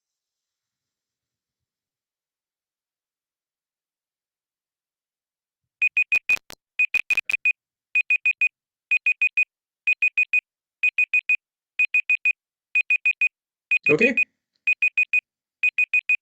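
A Google countdown timer alarm sounds in regular clusters of rapid high beeps after several seconds of silence, repeating steadily, with a brief spoken word partway through.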